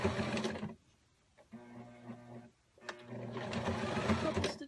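A sewing machine stitches fabric for a tiered hammock in two loud whirring bursts separated by a quieter pause with a low mechanical hum, close by.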